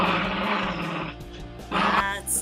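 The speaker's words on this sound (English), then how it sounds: "had some growling there" An angry pet dog growls in low, rumbling stretches, close by, with brief louder bursts toward the end.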